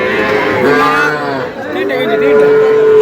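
Sahiwal bull calves moo at a busy cattle market in Dinajpur, long drawn-out calls rising and falling close by and running almost without a break.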